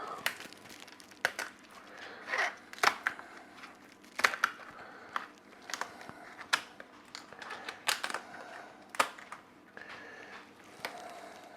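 Scissors cut through the inside of a lobster tail shell in a string of sharp snips and crunches, close and quiet, with faint crinkling between cuts and no voices.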